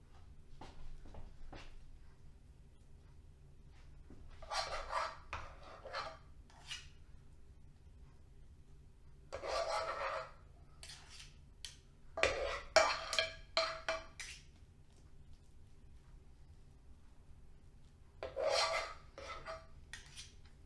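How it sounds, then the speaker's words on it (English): A knife scrapes and smooths mashed potato topping across a cottage pie toward the edges, giving soft rasping strokes in irregular bursts with quiet pauses between, close and fairly faint, with no voices. "And then just using the knife to smooth it to the edges"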